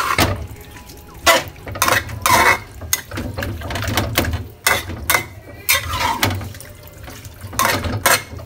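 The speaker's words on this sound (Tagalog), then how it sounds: "ang ilalagay po natin tubig, isang baso lang po." Water poured from a glass into a pan of pork adobo cooked with Sprite and oyster sauce, a series of sloshing pours and clinks with a low hum underneath, no talking.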